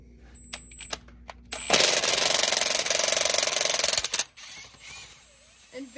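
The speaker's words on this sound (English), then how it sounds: "You're gonna wanna go grab your impact, but you're gonna wanna turn it to one of the first modes it has" A handheld impact wrench removes bolts on a Polaris RZR side-by-side, sounding as one loud, close, continuous hammering burst of about two and a half seconds. A few light metallic clicks come before it and faint handling noise follows.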